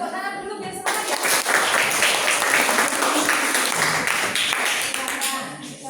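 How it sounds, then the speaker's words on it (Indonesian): A class of seventh-grade students claps for a mathematics group about to present. The applause is loud and dense and fills the room for several seconds after a brief voice at the start, then fades slightly toward the end. "Kita beri tepuk tangan dulu biar semangat ya."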